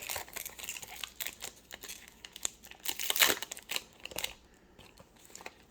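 Foil wrapper of a two-card Magic: The Gathering collector booster pack crinkling and tearing open up close, a steady run of crisp rustles with a louder rip near the middle, no talking.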